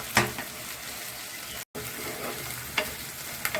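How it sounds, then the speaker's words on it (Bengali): Onion, garlic and ginger frying in a pan, a steady close sizzle with a few scraping stirs of a spoon, no talking. "পেঁয়াজ রসুন আদাটা ভালো করে ভাজা হয়ে গেছে।"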